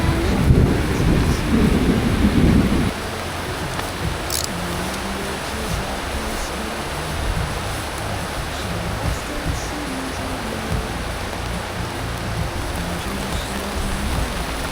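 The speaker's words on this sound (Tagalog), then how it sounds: "At inabot na nga kami ng ulan." Heavy rain pours down in a steady, dense hiss on an outing, louder and rougher for the first few seconds, then settling into a constant wash of falling water.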